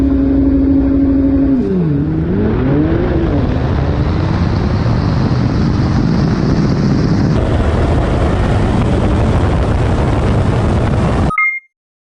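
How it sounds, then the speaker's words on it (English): A Stage 4 Porsche 911 Turbo S races hard, its engine roaring loud and close with a rising, shifting pitch and sustained acceleration, wind and road noise building before it cuts off abruptly. "I went down all the way to Florida and I raced and beat Dragtimes in my 911 Turbo S"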